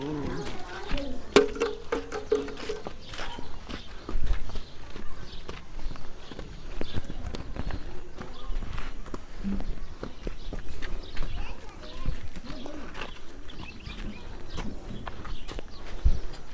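A Banni buffalo walks on the ground in Kutch, Gujarat, its hooves making irregular, fairly close clopping steps that go on throughout, with faint background noise between the strikes.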